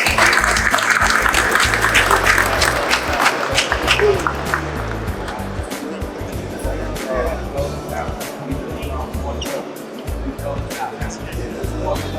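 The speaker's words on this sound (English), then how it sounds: "Everybody give this gentleman a round of applause one more time." An audience at a gathering applauds for a speaker, a dense, crowd-wide clapping that starts strong and gradually thins over roughly twelve seconds, with voices and other background noise mixed throughout.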